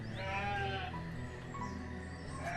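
Sheep bleat in the city-building game Banished, a few wavering cries over a steady low background hum, moderately close.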